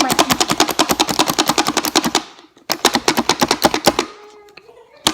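Rapid run of sharp chopping clicks from a Pampered Chef dicer cutting onion, a fast steady rhythm that breaks briefly, resumes, then trails off into a few scattered knocks, close and fairly loud.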